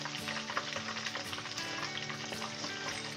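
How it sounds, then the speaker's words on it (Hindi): Coated spicy chicken wings fry in a pan over a normal flame, with a dense, continuous close-up sizzle and crackle and occasional stirring clinks, no speech. "विंग्स हमारी हो गई है फ्राई, अब इनको निकाल लेती हूँ मैं।"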